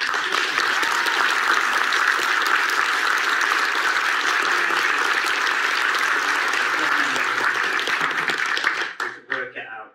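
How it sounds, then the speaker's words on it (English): Sustained audience applause at a Tomb Raider fan event in Derby, a dense steady wash of many hands clapping for about nine seconds before tapering off abruptly at the end. "So could I have everyone to clap"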